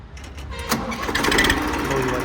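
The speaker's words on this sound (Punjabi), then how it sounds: "ਤੁਹਾਨੂੰ ਬਾਈ ਸਟਾਰਟ ਕਰਕੇ ਦਿਖਾਉਨੇ ਆਪਾਂ ਇਹਦੀ ਸਟਾਰਟਿੰਗ ਚੈੱਕ ਕਰਿਓ" An Indofarm 2050 tractor engine cranking and catching, a sharp start followed by a steady mid-pitched diesel running close to the microphone, with talk underneath.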